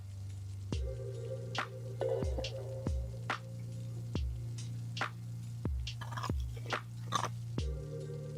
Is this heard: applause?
no